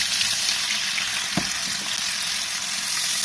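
Seekh kebab and tomatoes stir fry on high heat, giving a loud, steady, close sizzle throughout. One brief scrape or stir cuts through midway.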